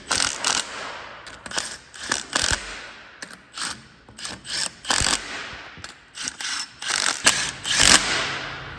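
Nuts being tightened onto studs while a pump's mechanical seal is reassembled, a close sequence of quick ratcheting clicks and metallic clanks in short irregular bursts, with no talking.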